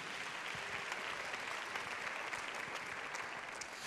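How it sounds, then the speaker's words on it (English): An audience at a beauty pageant applauds steadily, a thick, continuous wash of many clapping hands at moderate volume, with no voices heard over it. "So a big round of applause to everyone involved in tonight's judging."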